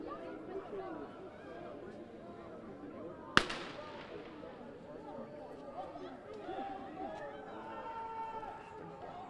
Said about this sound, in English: of course now we're seeing firecrackers